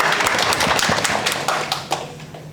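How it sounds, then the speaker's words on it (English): Applause at a film press meet, a burst of many hands clapping close and dense, thinning out toward the end. "Big round of applause for Sabrish."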